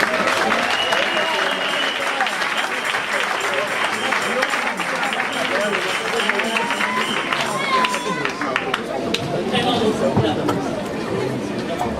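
Congregation at a women's church convention in Liège, Belgium applauding, steady clapping spread through the hall with crowd chatter and voices mixed in, dense and sustained.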